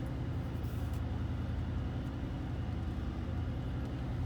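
A Mercedes G-Class G-Wagon creeps slowly uphill in second gear on very light throttle, giving a steady low engine rumble and road drone that stays even and close throughout.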